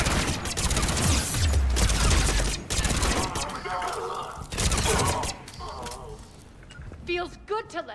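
Rapid automatic gunfire in the Mass Effect 3 video game, a loud dense fusillade that pauses and resumes in bursts, with voices talking over the shooting.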